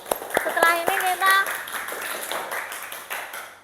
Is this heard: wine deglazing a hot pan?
no